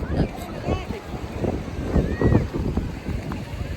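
Strong gusty wind at Esenköy, Yalova buffets the microphone in heavy rumbling waves, steady and close throughout.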